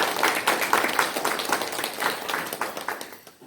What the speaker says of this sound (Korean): 우리 모든 영광 하나님께 박수로 올려드리겠습니다.